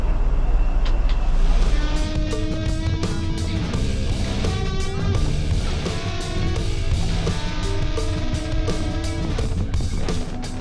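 A car on a drive through Armenia heard from inside the cabin, with a steady loud road and engine rumble throughout and some rattling and tapping mixed in, and no talking.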